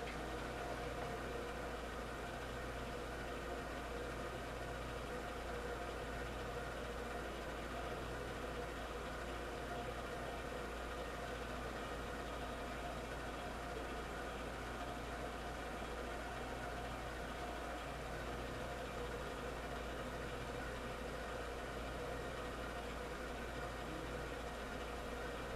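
An ADMET eP2 test machine runs a coefficient of friction test, giving a faint, steady motor hum with a low drone and light vibration that holds unchanged throughout.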